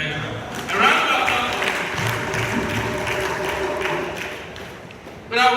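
An audience at a trade fair special events day claps in a steady wash of applause lasting several seconds, with a voice speaking over it and a brief louder swell at the end.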